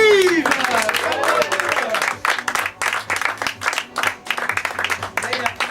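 A theatre audience in Paris bursts into dense, sustained applause that fills the room, following a brief voice at the very start.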